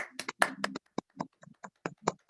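Sparse, scattered clapping closes a panel discussion: a few isolated hand claps and taps with gaps of silence between them, thin and irregular rather than a full crowd.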